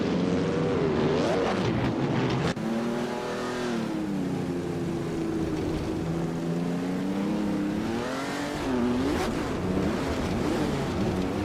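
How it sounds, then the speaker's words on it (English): Auto Union Type D Grand Prix race car from a racing video game, a sustained engine roar that climbs and dips in pitch with gear changes, loud and continuous throughout with no talk. "Aleatorius is driving an Auto Union Type D, known for its advanced engineering and straight-line speed"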